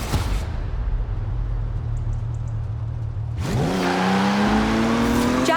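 A Jaguar car driven in Forza Horizon 4: a low, steady engine drone at first, then the engine note climbs sharply as it revs and accelerates, loud and close with no talking.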